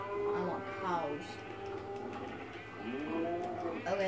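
Low, drawn-out cow moos from Minecraft repeat a few times, with a steady hum in the background and a brief spoken voice mixed in.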